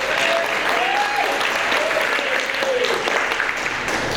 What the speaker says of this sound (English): Everybody else, a round of applause